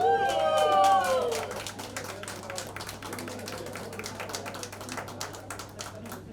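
An audience at a launch event breaks into steady, sustained applause after a brief announcing voice at the start, the clapping continuing at moderate volume to the end.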